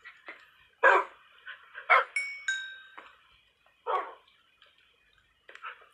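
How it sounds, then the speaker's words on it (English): Tamed wolves in Minecraft barking in short separate bursts, several barks spaced across the moment with soft ticking game sounds and brief tonal chimes between them, no talk. "I should probably make this video called the dog army"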